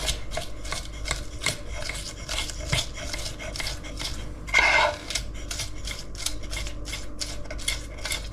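A knife slices chicken very thin on a board in a home kitchen, making a quick, even run of light tapping cuts, close and fairly quiet, with one brief scrape partway through.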